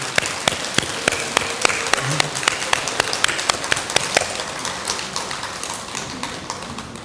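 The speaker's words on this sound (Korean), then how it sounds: "우리 여러분들의 현명하신 판단에 큰 박수 한번 보내주세요" Applause from a congregation at a Buddhist temple service in a temple hall, with sharp, close individual claps ringing out in a quick, steady rhythm over a softer wash of clapping that slowly thins out.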